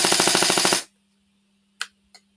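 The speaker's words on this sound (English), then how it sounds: "And then all you hear when we fire it is" An electric airsoft rifle (AEG) running on a 7.4 V LiPo battery fires a loud, fast full-auto burst lasting under a second, followed by silence and two faint single clicks.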